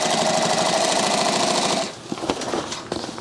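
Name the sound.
sewing machine with binding attachment sewing a backpack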